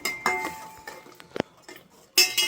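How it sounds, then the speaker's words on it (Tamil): Chicken being sautéed with chicken masala powder in a pan for chicken kulambu, heard as scattered metallic scrapes and clinks of a utensil against the pan, with a louder clatter near the end. "சிக்கன் மசாலா பொடி சேர்த்துட்டு நல்லா வதக்கிடுதும்"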